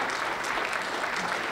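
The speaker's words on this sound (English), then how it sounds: "So if you guys would join me, give Pepper a round of applause." Parents in an audience at a school orientation night give a round of applause, a steady continuous wash of clapping throughout.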